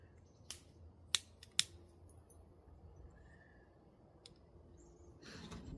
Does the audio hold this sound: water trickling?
no